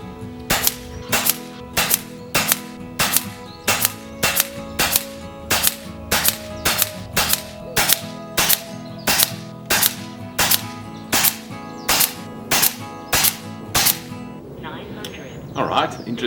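An FX air rifle with a .177 Lothar Walther barrel fires JSB 13.4 grain pellets in a long, evenly spaced series of sharp, close cracks, about one shot a second for roughly fourteen seconds.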